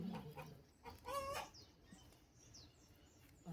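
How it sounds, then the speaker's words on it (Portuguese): Hens cluck and softly squawk nearby on a small backyard plot, quiet short calls scattered through the moment, with a louder burst partway through. "As galinhas estão que botam."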